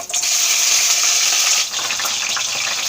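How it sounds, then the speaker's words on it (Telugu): Okra pieces going into hot oil in a kadai for a country-egg okra curry, giving a loud, close, bright sizzle that holds steady and then eases slightly after the first burst. "అందులో ఫస్ట్ మనం బెండకాయ ముక్కల్ని వేసి వేయించుకుందాం."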